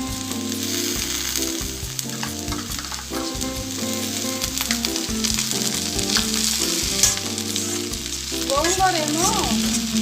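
Dry prawns fry with onions and curry leaves in hot oil, giving a steady, continuous sizzle that runs through the whole stretch with music playing over it.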